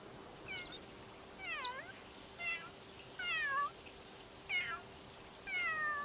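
Cats in The Sims 3 give about six short rising-and-falling meows at a steady pace over a low, constant game hum, faint and with no talking.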